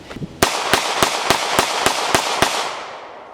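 A Smith & Wesson Model 5906 third-generation 9mm handgun fires eight sharp shots in fast, evenly spaced succession, loud and close outdoors, each crack followed by a brief ringing tail.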